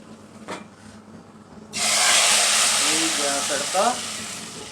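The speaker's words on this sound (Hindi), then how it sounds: "अब इसका तड़का लगा देंगे" Quiet talk, then a sudden loud, sustained sizzle as spices for Lahori dal chana tempering hit hot oil, steady crackling hiss with a voice faintly underneath.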